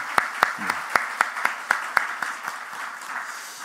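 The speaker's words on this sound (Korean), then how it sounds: "이 시간 하나님께 영광의 박수, 감사의 박수를 올려드리겠습니다" Congregation clapping in a Korean church New Year's Eve worship service, a ragged wash of many hands with a few sharp, evenly spaced louder claps standing out near the front, fading toward the end.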